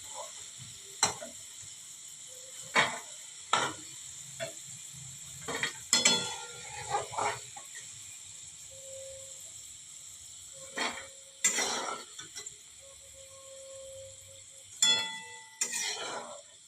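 Crispy potato french fries fry in hot oil with a soft, continuous sizzle, broken by repeated sharp scrapes and stirring clatters of a utensil in the pan at irregular intervals.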